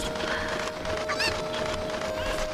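Chickens in the video game Zelda Ocarina of Time give short honking clucks over a steady game background hum, with one brief sharp squawk standing out midway.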